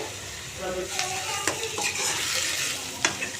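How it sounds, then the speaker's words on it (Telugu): Boiled chicken pieces fry in oil as a spoon stirs them, giving a continuous sizzle with scraping strokes and a few sharp clacks against the pan, close and without talk. "మధ్య మధ్యలో కలుపుకుంటూ టెన్ మినిట్స్ ఫ్రై చేసుకోవాలి"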